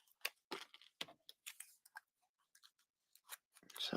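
Scissors cut through card stock in a quick series of close, crisp snips with short pauses between them, quiet and dry, ending in a brief rustle.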